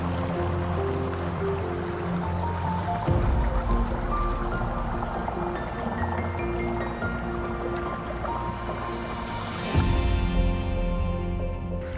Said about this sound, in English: the water not only is sliding down, but also forced over the front of that, making a pretty dramatic falls